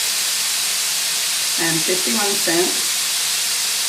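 Ground beef browning in a pan gives a steady, loud broadband sizzle throughout, with a person briefly speaking over it midway.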